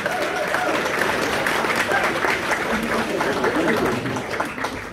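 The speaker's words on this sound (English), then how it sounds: "give him a round of applause" A crowd at a Scottish folk music celebration applauds a folk musician with sustained, even clapping that fills several seconds, then tapers slightly at the end, with faint voices mixed in.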